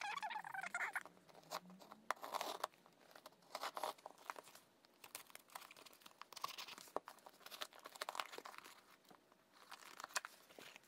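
Plastic wrapping on a K-pop album package crinkles and tears as it is opened, a quiet, close run of irregular crackles and rustles in uneven bursts throughout.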